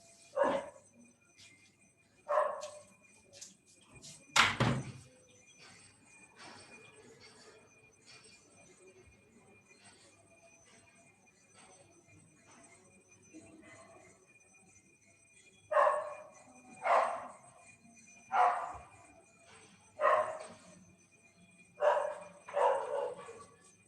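Dog barking in repeated bursts: a few early barks, a pause with a low background hum, then a steady series of evenly spaced, fairly loud barks.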